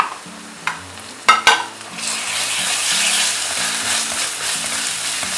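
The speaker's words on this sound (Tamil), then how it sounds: "அந்த டைமில் இஞ்சி பூண்டு விழுது சேர்க்குறேன்." Ginger garlic paste hitting a pan of frying garlic and onion, with a few sharp clatters of spoon and pan, then a loud, continuous sizzle that swells and holds close by.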